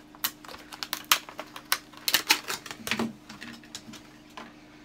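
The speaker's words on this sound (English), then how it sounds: "I'm going to take it out of its packaging." Lumibowl toilet night light being unpacked from its box, with a run of close, sharp crinkling and clicking handling noises in irregular bursts, then quieter at the end.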